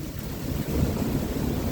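Strong wind gusts during a storm with lightning and rain, a loud continuous roar of rushing air buffeting the microphone, swelling slightly partway through and holding steady.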